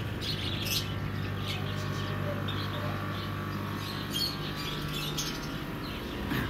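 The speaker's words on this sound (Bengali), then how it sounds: "আর এখানে আমাদের সবাই প্রিয় সানকুনু রয়েছে।" Sun conure parrots in a pet shop, giving scattered chirps and calls over a steady background hum, moderately faint and without speech.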